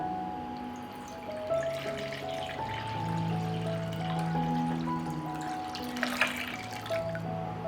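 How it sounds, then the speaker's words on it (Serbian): Water poured into a bowl at home, a soft continuous trickle and splash with tonal ringing from the bowl, no voices. "u jednu činiju sipat ću vodu"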